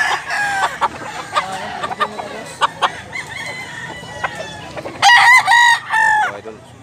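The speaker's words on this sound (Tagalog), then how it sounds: "Bullstag mga idol, bullstag ang dalawang manok." Two bullstag roosters at a cock farm in Mantalungon, Cebu: sharp clucks and calls, then loud repeated crowing near the end, close by, with someone talking intermittently.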